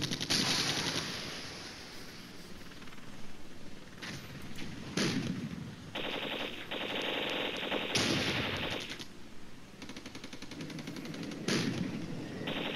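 Automatic and single-shot gunfire from the Cold War tactics game Flashpoint Campaigns: Red Storm, with repeated loud bursts and volleys spread across the whole stretch and no speech.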